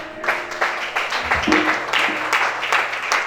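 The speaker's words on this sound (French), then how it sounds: "Acclamez Chantal." A congregation at a French-language church service applauding together, a loud, dense clapping that swells and holds over a low musical drone.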